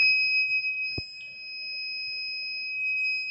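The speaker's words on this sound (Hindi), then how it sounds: "अलार्म दे दी इसने" A 12V lithium battery load tester sounds its low-voltage alarm as a steady, piercing two-tone electronic beep that holds continuously, with a single sharp click partway through.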